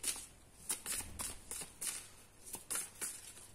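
Tarot cards shuffle close by in repeated riffling bursts at a steady rhythm, soft and near, with no voices over them.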